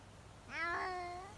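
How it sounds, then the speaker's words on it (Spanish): A kitten gives a single clear, rising-then-falling meow, close by and fairly faint, over a quiet background hiss. "Cáchate ese gatito como suena."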